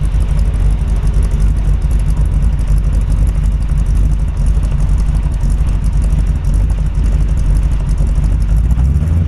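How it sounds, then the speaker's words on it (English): A 1948 Ford Super Deluxe Woody Wagon with an H&H flathead V8 runs close by, its engine rumbling loudly and steadily throughout with a dense low throb and no voices. "Hey Tom, can you rev it up a little bit for me?"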